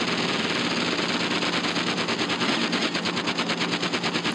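Rapid, steady bursts of a car-mounted machine gun fire continuously in the vehicle combat game Interstate 76, a dense rattling stream with no voices over it.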